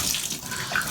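Cold tap water pouring into a bathtub, a steady close splashing rush that fills the short moment without pause.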